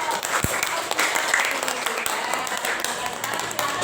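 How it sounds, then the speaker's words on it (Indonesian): Classroom applause for a student presenter from the visual group during a teacher mentoring session, a dense burst of clapping close by, with voices mixed in underneath. "Kita beri tepuk tangan untuk Nanda dari kelompok"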